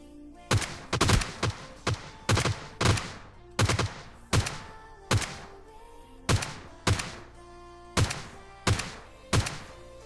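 Rapid bursts of gunfire from the battle royale game PUBG Lite, about a dozen sharp loud shots in quick pairs and clusters with brief gaps, ringing with a bright metallic tail, no talking over them.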